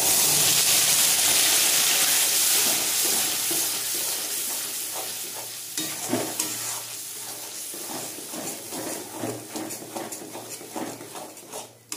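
A ginger, garlic, onion and tomato paste hits hot oil in a frying pan for a fish egg fritter curry, giving a loud, close sizzle that gradually softens, with light stirring scrapes and taps toward the end.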